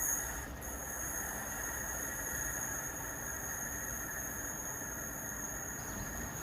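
A Northern Railway passenger train, the Sheffield to Lincoln Central service, rumbles steadily along the rails at Gainsborough Lea Road with a constant low roar and a thin high whine, continuous and fairly distant, no voices.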